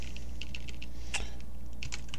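Quick taps on a computer keyboard over steady background hum, a few scattered keystrokes and one louder click, close to the microphone.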